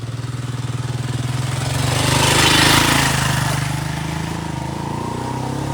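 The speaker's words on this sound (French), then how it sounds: "la moto va passer" A motorcycle engine drones nearby, growing louder as it approaches, peaking midway, then easing off as it moves past, alone with no talking.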